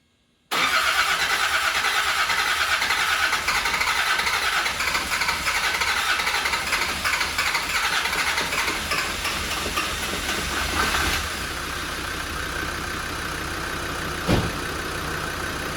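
A neglected Land Rover Defender 90 being rebuilt cranks and runs, a loud steady engine drone filling the clip after an abrupt start, with a slight drop in level partway through and a brief knock near the end.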